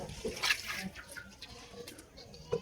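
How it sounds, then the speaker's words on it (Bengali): Water pours into a wok on the stove for boiling an egg, coming in irregular splashy bursts of moderate loudness with quiet gaps between them. "আমি ডিমটা সেদ্ধ করার জন্য পানি দেবো।"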